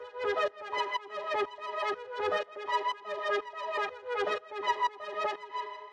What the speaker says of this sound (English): the first sound we've got here is this little lead sound, which sounds like this.